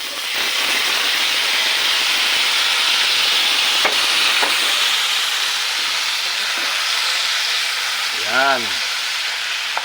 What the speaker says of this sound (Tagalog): Nalalagay na po natin ang sinangkutsa natin.